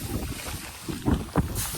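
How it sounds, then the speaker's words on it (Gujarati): Wind gusting steadily across the microphone on an open stretch of water, a broad rushing noise with a few stronger swells and bumps near the middle. "પવન છે જરા જરા"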